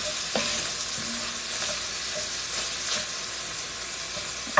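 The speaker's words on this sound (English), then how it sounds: "Yeah, let's just saute it up." Chili ingredients sauté in a hot pan, a steady close sizzle and fry hiss with occasional stirring scrapes throughout, no voices.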